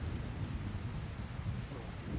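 A thunderstorm in the video game SCUM, heard out on open water by a boat: a steady low rumble of thunder with rain and wind noise, continuous and fairly subdued, no voices.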